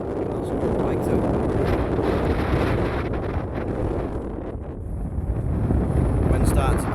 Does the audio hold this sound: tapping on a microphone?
no